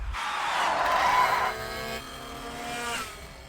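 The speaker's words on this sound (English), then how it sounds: "Team Douche hits Lisa's car, causing her to spin out." A cartoon race car spins out in a Formula One-style race after being hit, giving a loud skidding, whooshing engine-and-tire sweep that peaks early, then fades to a lower steady drone with a brief second swell, with no talk.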